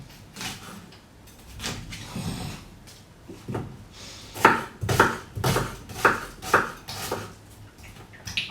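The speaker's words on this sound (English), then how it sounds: "So just chop up the onions whatever way you friggin' want to." Onions are chopped with a knife in a home kitchen, a series of sharp, close knocks on a board that grow more regular and rhythmic in the second half, with no talk.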